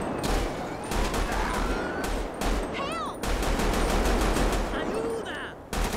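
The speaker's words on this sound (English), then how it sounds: "Shots fired." Gunfire in a GTA roleplay game during a motorbike chase, several bursts crackling over a steady engine drone, with shouting voices and radio chatter layered over the shots.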